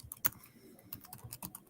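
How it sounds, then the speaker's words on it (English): Quiet clicking of a computer keyboard, a run of light, irregular keystrokes close by, faint and unaccompanied by talk. "I hear Adam typing something"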